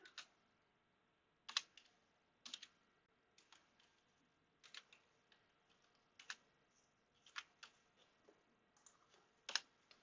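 Code being typed on a computer keyboard during a CSS lesson, soft irregular keystroke clicks in short clusters and single taps, quiet and close with no talking.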